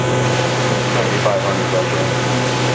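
A YCM vertical machining center spindle running at 5,000 RPM gives a steady, loud, even mechanical hum with a constant low drone, heard close with a voice speaking over it.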